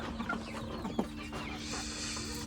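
White American Silkie and Japanese bantam hens at an exotic aviary give a few soft clucks, one sharper cluck standing out near the middle, over steady background hum.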